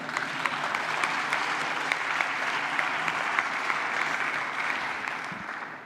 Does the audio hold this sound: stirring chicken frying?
no